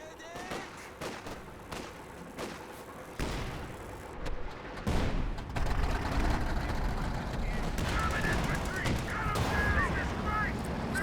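Anti-tank guns and small arms fire in a Company of Heroes 2 battle, a run of sharp cracks and heavy thumping blasts over a rumbling battlefield bed, with a commentator talking throughout.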